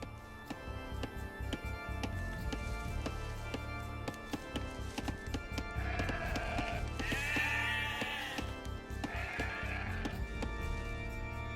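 Sheep bleating in Age of Empires II: Definitive Edition, several clear bleats in the middle over a steady game soundtrack with a ticking, rhythmic low backing.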